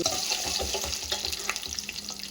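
Continuous crackling and sizzling of curry leaves, green chillies and ginger frying in hot oil, close and fairly loud, with small pops scattered throughout and no voices.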